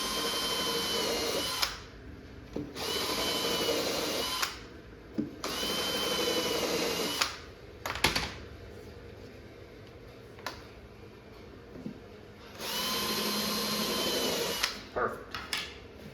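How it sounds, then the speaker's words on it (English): A power drill bores pilot holes in a cocktail arcade table cabinet, starting and stopping in several short whirring bursts of a second or two each, with small knocks and handling clicks in the gaps between. "I just need to drill it enough to get a pilot hole."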